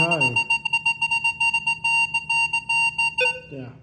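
Rapid high-pitched electronic beeping from a Vanquish 540 metal detector over a silver coin, pulsing steadily for several seconds, with brief voices at the start and end.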